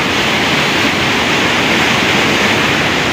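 Fast water rushes through a canal dam in a loud, close, churning roar that stays constant and unbroken, with some wind buffeting on the microphone and no talking.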